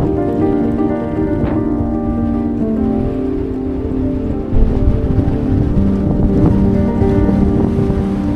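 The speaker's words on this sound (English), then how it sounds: "it's very windy and a little bit sandy" Strong wind roars steadily across the microphone on a windy, sandy stretch in Mauritania, a loud unbroken rush with a low engine-like hum beneath it.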